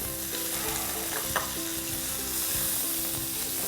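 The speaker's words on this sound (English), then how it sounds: "Let's get our onions going." Onions frying in a pan alongside garlic and ginger for a stir fry: an even, close hiss of sizzling fat with a faint tap or two, steady throughout.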